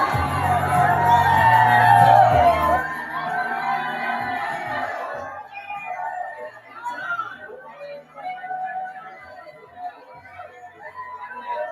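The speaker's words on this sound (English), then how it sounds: "This next clip shows the high school students cheering on the elementary school participants." High school students cheer on elementary school participants at a school wellness event: a loud burst of crowd whoops and shouts, then scattered yells and chatter that continue more loosely.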